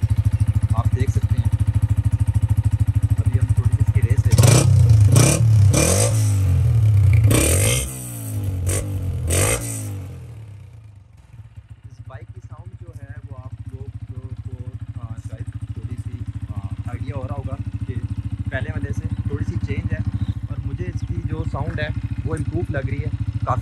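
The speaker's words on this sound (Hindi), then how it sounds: "बाइक हमने स्टार्ट किया है" A 2022 Honda CG 125 motorcycle engine runs with a loud revving burst early on, then settles into a steady idle rumble; voices talk over it.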